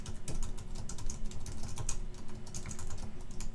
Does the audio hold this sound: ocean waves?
no